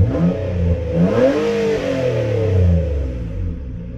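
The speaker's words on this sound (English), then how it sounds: "Running really smooth, idling where it should be." A 2010 Nissan Maxima engine idles steadily at operating temperature after a misfire repair with new ignition coils and spark plugs, a close, continuous mid-low hum with slight rises in pitch and no talking.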